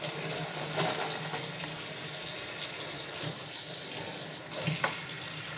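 Water running steadily from a tap while an umbrella is washed at home, a continuous close splashing flow with a brief louder burst near the end and no speech.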